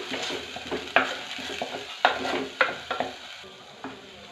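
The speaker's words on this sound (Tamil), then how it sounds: "மசாலாவை ஆட் பண்ணி ஒரு 5 மினிட்ஸ் நல்லா பச்சை வாசனை போகிற வரைக்கும் வதக்கிக்கலாம்." Ground masala sautés in a pan for prawn biryani, a soft steady sizzle broken by several sharp scraping stirs of a spoon against the metal, close and moderately loud with no talking.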